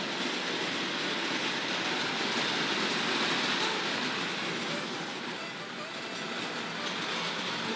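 A Hornby Duchess model locomotive runs along a toy railway track in a steady, rushing clatter that carries on evenly without a break.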